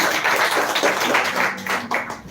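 A room full of people clapping steadily, a dense, continuous patter of applause that swells and dips slightly before tapering off.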